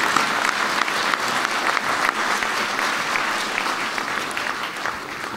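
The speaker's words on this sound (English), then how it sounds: "how about one more round of applause for Larry and Evelyn" An audience at a sports hall of fame induction ceremony applauds in a dense, sustained burst of clapping that stays loud throughout and fades slightly at the end.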